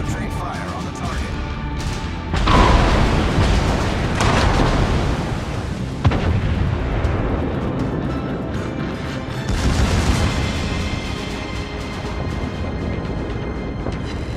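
Heavy naval gunfire and shell impacts boom repeatedly in a warship battle game with the battleship North Carolina, loud crashing blasts layered over a continuous rumble, with game voice callouts heard.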